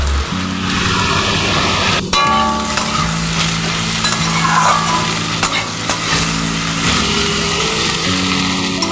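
Taro pieces frying in a pan for a taro curry, sizzling steadily while a utensil stirs and scrapes through them in repeated strokes, close and fairly loud with no talking.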